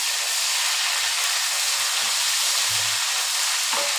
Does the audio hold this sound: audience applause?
no